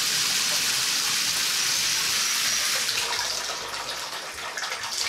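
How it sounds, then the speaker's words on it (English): Water leaking from a ceiling near a shower pours and splashes in a continuous rushing hiss, fairly close, easing slightly toward the end. "See the water dripping there?"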